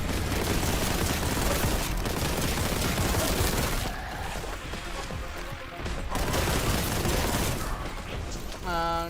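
Near-constant gunfire and combat blasts in a video game fight, loud and dense with a short quieter dip midway, a voice speaking briefly at the end.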